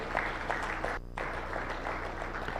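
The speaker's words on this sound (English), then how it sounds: "Can we all recognize them with a round of applause?" Audience at a validation workshop for ambassadors and international representatives gives a brief round of applause, a faint dense patter of clapping with a short lull midway.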